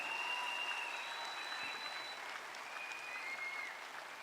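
An audience at an indoor marketing talk claps steadily, a dense, even wash of applause heard at a moderate distance for the full stretch without a break.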